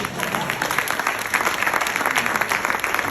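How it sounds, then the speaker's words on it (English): An audience at a women directors' conference on inclusive boardrooms applauds, a dense, even patter of many hands clapping continuously and fairly close throughout. "Can we clap ourselves?"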